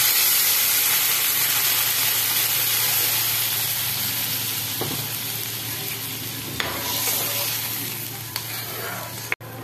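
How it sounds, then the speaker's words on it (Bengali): A pot of potato curry hisses and sizzles loudly and steadily up close after warm water goes into it, the bubbling slowly settling, with a few faint clicks near the end. "এবার এখানে আমি একটু হালকা গরম জল দিয়ে দিচ্ছি।"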